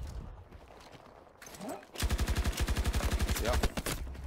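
Automatic fire from the RPT-31 light machine gun in Battlefield 2042: a rapid, evenly spaced burst of loud close shots lasting about two seconds, after a quieter stretch of game sounds.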